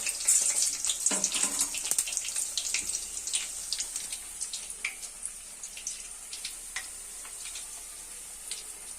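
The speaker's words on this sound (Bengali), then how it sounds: "নর্মাল গরম করে দিয়েছি, তাও দেখুন কি সুন্দরভাবে ফ্রাইটা হচ্ছে" Vegetable chops fry in moderately hot oil, giving a constant fine sizzle and crackle with scattered sharp pops, loudest at the start and gradually settling; no one speaks.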